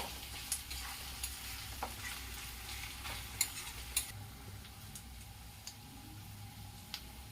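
Onion, ginger, garlic and chilli frying in a pan as a spoon stirs them, a steady low sizzle with occasional sharp scrapes and taps of the spoon against the pan, no voices.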